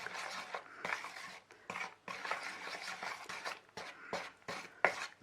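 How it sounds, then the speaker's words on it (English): Resin casting mix stirred in a container, a utensil scraping and clinking in repeated uneven strokes with short pauses between them, close and fairly clear, with no talk. "I don't want to have to keep stirring."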